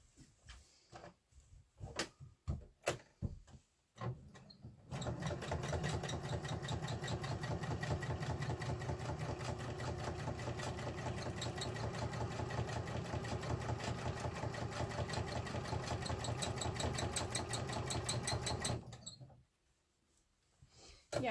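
A sewing machine stitches a rainbow window quilt in one steady, continuous run of rapid mechanical chatter lasting most of the clip, preceded by a few scattered handling clicks and ending abruptly.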